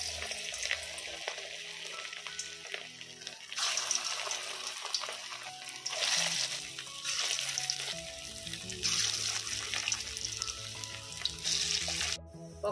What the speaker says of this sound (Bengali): তেল গরম হয়ে গেছে, এখন পকোড়াটি বাইজা নিমু।